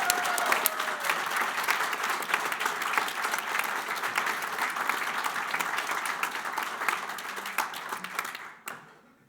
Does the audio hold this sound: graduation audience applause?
yes